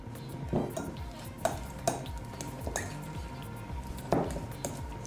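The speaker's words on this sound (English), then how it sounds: "just work your fork through it, making sure it all gets really well combined" A fork mashes and works softened butter in a bowl for chicken Kiev, giving quiet squishy smears punctuated by several light metallic clinks against the bowl at an uneven pace.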